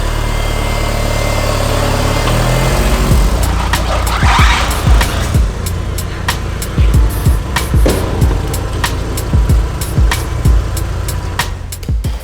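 An Audi TT 1.8 turbo drives slowly onto a workshop lift, its engine idling and pulling low under a steady rumble, with sharp clanks and knocks from the lift ramps cutting in repeatedly.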